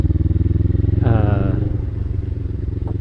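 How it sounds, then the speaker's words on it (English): Suzuki SG500 motorcycle engine idling and running with a steady low rumble, a brief rev partway through, close and loud with a voice talking over it. "not the same sound at all coming out of this bike"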